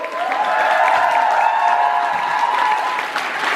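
A convention audience gives loud, sustained applause for panel guests, dense clapping with some cheering and a held whistle-like tone, close and continuous for several seconds.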